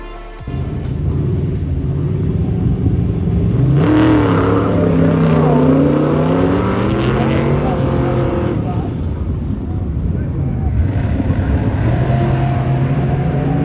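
A racing truck engine revs hard at a motorsport event, loud and close, with rising and falling pitch sweeps as the throttle opens; a voice talks over the engine noise.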